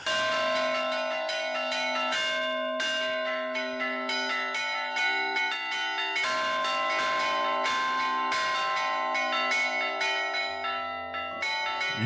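Village church bells in Peillon, a hilltop village in the Alpes-Maritimes, rung by hand, sounding a sustained ringing peal with overlapping rhythmic strikes and long resonant tones, loud and steady throughout.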